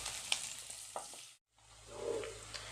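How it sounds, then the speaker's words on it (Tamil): A wet ground masala paste sizzles and spatters in a hot pan after fried onions, with a short break and then a stronger hiss as stirring continues, while making South Indian egg curry. "இப்போ நம்ம அரைச்சி வச்ச மசாலாவை ஊற்றிக்கலாம்"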